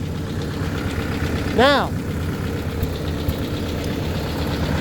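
A Ford 800 tractor engine idles steadily with a low rumble throughout, while someone talks briefly over it and a short rising whistle-like tone cuts in near the middle.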